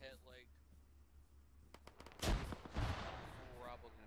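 Frag grenade explosion in the military game Arma, a sudden loud boom followed by a rumbling, crackling tail, preceded by quieter voices and faint thuds.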